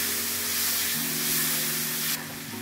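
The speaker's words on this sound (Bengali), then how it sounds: "এবার বেশ ভালো করে নাড়াচাড়া করে নিচ্ছি আর অল্প ঢেকে দিচ্ছি।" Spiced potato filling for bread pakora sizzles steadily as it is stirred in a hot pan, a continuous close hiss with a faint hum underneath and no talking.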